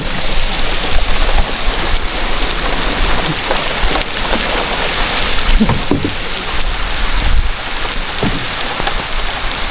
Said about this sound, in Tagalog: Ang aga nating mabasa ng ulan.